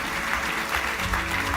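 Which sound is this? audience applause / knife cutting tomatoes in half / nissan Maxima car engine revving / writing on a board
audience applause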